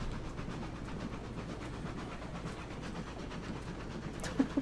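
Steam train climbing a hill in the video game Railroads Online, a steady low chugging rumble with faint rhythmic pulses, moderately quiet and continuous, ending with a couple of brief sharp knocks.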